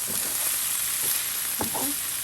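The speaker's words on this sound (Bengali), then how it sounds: "জাস্ট তেলের উপর একটু ভাজা ভাজা করে নিচ্ছি" Soft, steady sizzling of greens frying in oil, with a couple of brief stirring scrapes near the end.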